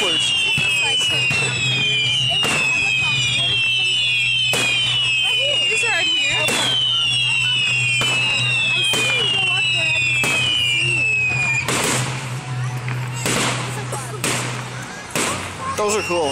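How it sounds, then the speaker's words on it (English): Whistler fireworks at a rural Fourth of July show on Lake Sara in Effingham, Illinois, sending out repeated shrill falling whistles punctuated by sharp bangs and crackles, with people chatting nearby. "Listen to the whistlers."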